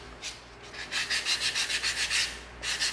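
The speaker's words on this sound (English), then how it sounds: "now we're gonna come in with our 220 sanding stick, and we're just gonna hit off some of the light little fuzzies" A 220-grit sanding stick rubs back and forth along the bandsaw-cut edge of EVA foam for a foam prop hammer, giving a steady series of close, rhythmic raspy scrapes, about a dozen strokes with no talking.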